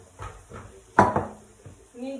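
A metal pot lid and cookware are handled in a home kitchen while lunch is cooked: soft knocks, one loud close clank near the middle, then lighter clatter, with a brief voice at the end.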